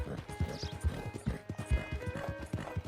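Hooves of a Turkoman war horse in the video game Red Dead Redemption 2 clop steadily at a brisk gait, close and fairly loud, with no talking over them.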